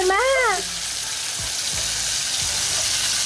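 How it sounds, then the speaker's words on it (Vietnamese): Tomatoes poured into a hot frying pan of oil sizzle loudly and steadily in a close, constant hiss, with a short vocal sound at the very start and a few soft clinks underneath. "Đổ cà vô văng nữa đi. Đó. Đó nó xèo xèo nữa cà."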